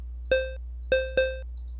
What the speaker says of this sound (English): It's like a hollow plink now